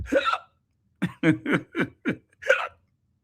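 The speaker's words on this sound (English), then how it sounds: "It's almost like you could hear the hiccups." A person hiccups, one sharp hiccup then a quick run of five close together and a final one, each short, close and fairly loud against silence.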